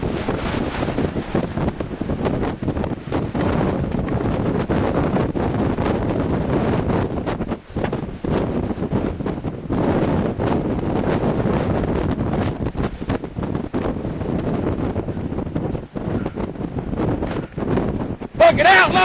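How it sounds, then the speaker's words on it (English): Tornado wind roaring around a storm-intercept vehicle near Hoxie, Kansas, a constant loud rushing roar battering the car and microphone for the whole stretch, with brief dips and voices shouting underneath. "You got a tornado going around it."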